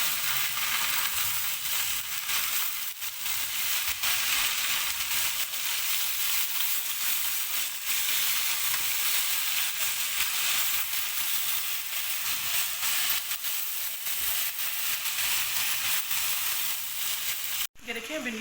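Okra frying with masala in a pan, a steady hiss and crackle of oil held at an even level for about seventeen seconds, then cutting off abruptly, with no talking.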